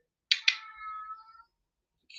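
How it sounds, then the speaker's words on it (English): A cat meows in the background, two sharp calls followed by a drawn-out trailing cry, faint and fairly distant, then quiet. "Do you hear a cat meowing in the background?"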